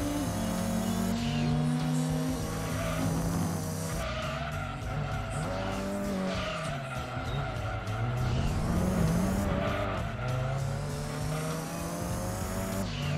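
Tires squeal loudly and repeatedly as a race car drifts through corners in Gran Turismo 2, the screech rising and bending over a revving engine, with no talking.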